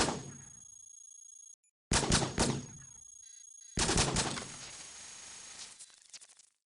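Flak guns fire in the roguelike robot game Cogmind in short bursts of sharp, clattering blasts, three separate volleys divided by silent gaps, the last decaying more slowly under a faint steady electronic tone.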